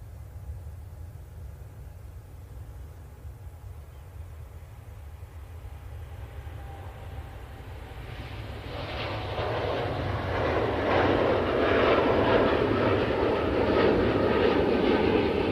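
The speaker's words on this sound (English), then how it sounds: "Qatar now on the roll, going back to Doha." A Qatar Airways jet on its takeoff roll for Doha at Manchester Airport, its engine roar starting low and distant, then swelling to a loud broadband rumble partway through and holding steady.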